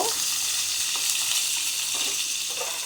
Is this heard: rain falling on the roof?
no